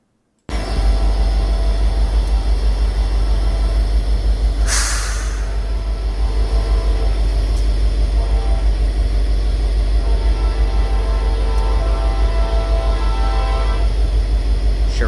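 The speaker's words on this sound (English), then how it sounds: "NS 45R, which is a rerouted grain train from Gainesville, Georgia, would roll through Central on its way to its destination of Mansfield, Ohio." A Norfolk Southern grain train rolls steadily through the town of Central, a continuous low rumble of wheels and cars with a brief harsh burst partway through.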